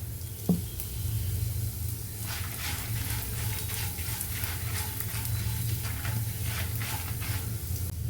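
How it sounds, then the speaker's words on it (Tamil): Chana dal and coriander seeds roasting in a pan with a pinch of asafoetida, giving a steady close sizzle with light stirring scrapes throughout and no speech. "கடலை பருப்பு தனியெல்லாம் நல்லா வாசனை வர வரைக்கும் நல்லா வறுத்தாச்சு"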